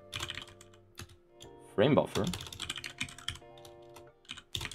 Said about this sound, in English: typing is difficult